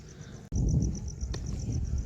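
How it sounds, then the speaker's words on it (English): Crickets chirp at night in Tenerife, a faint, steady high-pitched pulsing that repeats evenly through the whole stretch over a low background rumble. "You can just hear crickets, I think it is."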